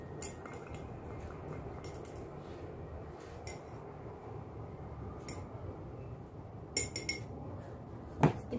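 A spoon stirs margarine into water, giving faint, scattered metallic clinks against the container over a quiet room background, with a slightly sharper clink near the end.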